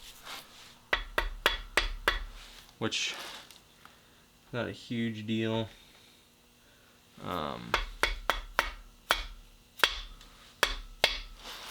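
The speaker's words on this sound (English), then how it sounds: "hammer it into place" Repeated sharp hammer blows strike metal in bursts while reassembling a 1977 Ford F250 351M engine, a quick series, a pause while someone speaks briefly, then another run of close, ringing hits.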